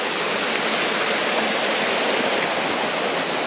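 A small waterfall pours during a hike in green Ilam, Nepal, giving off a steady, dense rushing roar close by that stays even and unbroken throughout.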